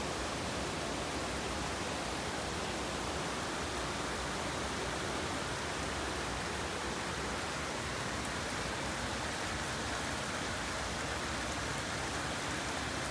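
Rain falls on a vegetable garden as a steady, even hiss that never lets up, dense and constant throughout, with no voices or other sounds.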